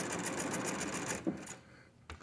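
A sewing machine stitches a pieced quilt block in a steady, fast run of needle strokes, then stops and gives a couple of short bursts, heard close and fairly loud with no talking.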